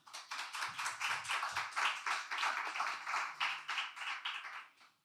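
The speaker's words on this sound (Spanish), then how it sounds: "aplaudan la presentación" Audience applause greeting the introduction of a speaker at an inaugural lecture: dense, steady clapping from many hands, loud and continuous, then fading away at the very end.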